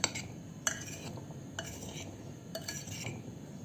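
A spoon scrapes and clinks against a bowl while chickpeas coated in batter are gently folded together, with a few sharper taps standing out over a soft, quiet background.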